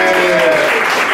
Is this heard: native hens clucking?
no